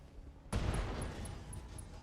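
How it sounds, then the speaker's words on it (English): An ATM ammo explosion in a RogueTech battle erupts abruptly with a deep, heavy boom, then rolls on as a sustained rumbling roar with no talk over it. "ATM ammo explosion"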